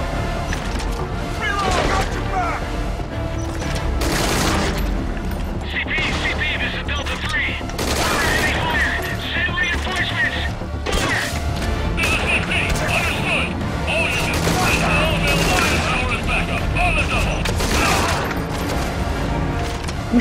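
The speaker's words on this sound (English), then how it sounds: "I hear a shooting." Video game gunfire in Metal Gear Solid 5, dense bursts of shots and machine-gun fire with crashes running throughout and loud in the mix, while a player talks over it.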